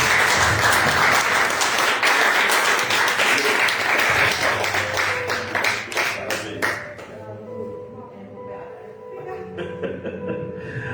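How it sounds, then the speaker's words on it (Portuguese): A church congregation breaks into loud, dense clapping that fills the first half, then thins to scattered claps as a voice begins speaking over the fading applause. "As palmas são para o Senhor Jesus."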